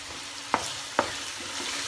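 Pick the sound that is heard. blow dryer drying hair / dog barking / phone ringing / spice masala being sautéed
spice masala being sautéed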